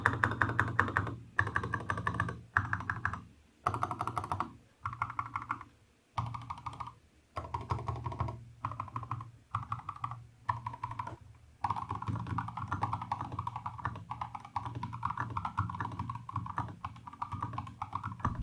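A SKYLOONG mechanical keyboard with a gasket mount is typed on steadily at close range, giving a continuous run of soft, even, thocky keystrokes in short bursts separated by brief pauses.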